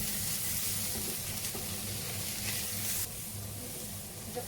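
Food browning in a shallow layer of oil with turnip and minced meat, giving a steady, close, fairly loud sizzle and crackle that drops slightly in level partway through, with no talking.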